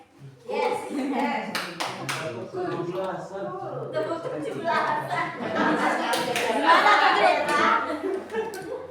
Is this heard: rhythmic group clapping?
yes